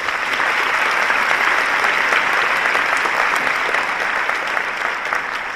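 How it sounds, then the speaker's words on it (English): Sustained applause from an audience at a school commencement ceremony, a loud, even wash of clapping that carries steadily throughout without pause. "Let's give them another round of applause."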